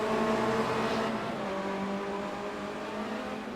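A Formula Renault 2.0 race car at Monza in iRacing, its engine droning steadily as the driver brakes very late into a corner, the pitch dipping and falling away as the car slows, with no talk over it.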